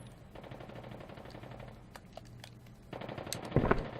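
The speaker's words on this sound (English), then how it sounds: "Definitely sounds like gunfire." Gunfire in the Resident Evil Survivor video game: rapid bursts of shots over a low game hum, building to a louder, denser volley near the end, with no talking.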